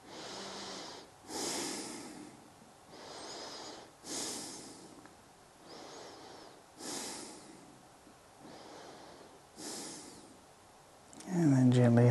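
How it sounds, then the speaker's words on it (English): Slow, deep breathing during a yoga class: about seven evenly spaced inhales and exhales, close and airy, before a voice begins speaking at the end. "A few breaths here."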